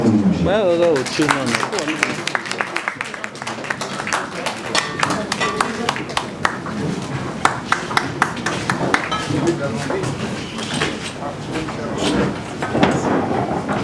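Press conference audience at the U Arena in Paris La Défense applauds to welcome a speaker, a long run of dense, steady clapping that stays loud and even from start to finish, with a few voices mixed in.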